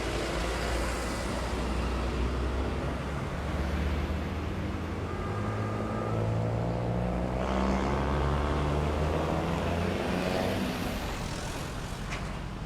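Road traffic flows through the Gadok junction at Puncak, Bogor, a constant wash of passing cars, buses and trucks with deep engine rumble, some vehicles droning closer by mid-clip, no voices.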